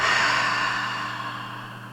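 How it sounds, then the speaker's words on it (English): A long, airy exhale through the mouth during a yoga breathing exercise, close and steady, fading gradually over two seconds. "Exhale through the mouth."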